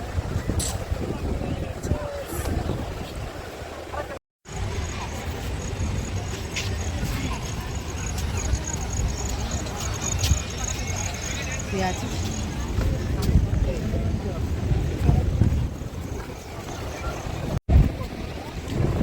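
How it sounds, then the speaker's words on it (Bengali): Steady wind roars and gusts across the microphone on Digha sea beach, a broad rushing noise that barely lets up, with faint voices underneath. "এখানে অনেক সুন্দর হাওয়া দিচ্ছে"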